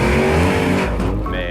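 A lowrider car accelerates hard, its engine a loud, steady roar that fades slightly toward the end.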